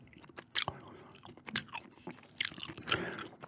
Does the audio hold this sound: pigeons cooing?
no